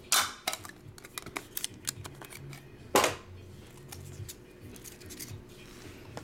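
A sealed trading card pack is torn open up close, with crinkly foil rustles and sharp ripping bursts, the loudest tear near the middle, then quieter shuffling.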